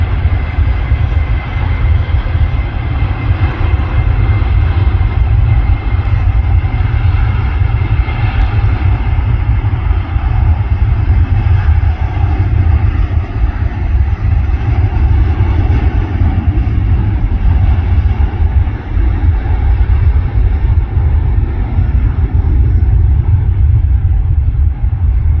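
Loud, constant jet-engine roar of airplanes taking off and landing on the dual runways at Manchester Airport, a heavy low rumble held steady for the whole stretch with no talking.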